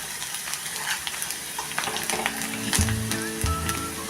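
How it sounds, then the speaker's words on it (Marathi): Onion frying in a hot pan over a high gas flame, a steady close sizzle with scattered crackles and a few scrapes of stirring, no voices. "कांदा बघा कसा छान भाजत आलेला आहे।"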